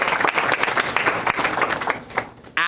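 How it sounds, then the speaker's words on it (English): Dense applause from an audience for board members at a sendoff event, a continuous wash of many hands clapping at moderate loudness throughout. "Please, let's give them all a big round of applause."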